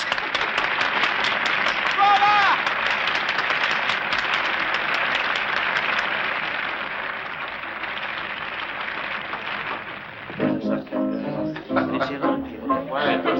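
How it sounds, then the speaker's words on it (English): A small gathering at an evening party applauds together in a dense, continuous patter of claps that gradually fades, giving way to chatter and voices near the end. "Now he claps."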